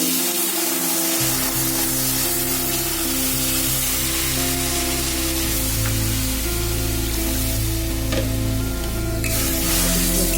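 Bay leaves sizzle in a little hot ghee, a steady, even hiss that runs the whole time over a low, constant hum, with no talking.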